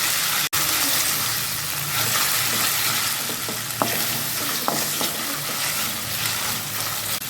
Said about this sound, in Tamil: இஞ்சி பூண்டோட பச்சை மணம் போகிற வரைக்கும் நல்லா வதக்கி விட்டுறலாங்க